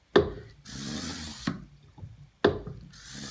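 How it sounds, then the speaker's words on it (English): Hand pump oil extractor being pumped during an oil change on a 2006 Mercedes C280 W203, with two sharp close thunks, each followed by a hollow suction whoosh and a mechanical creak, and no talk. "we just need to start pumping the extractor"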